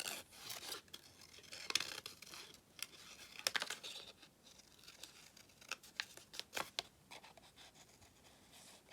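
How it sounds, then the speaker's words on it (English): Scissors snip through paper while cutting out a butterfly shape among paper flowers, a series of short, crisp cuts and rustles at close range, irregularly spaced and fairly quiet. "I'll just cut the butterfly in some of these flowers."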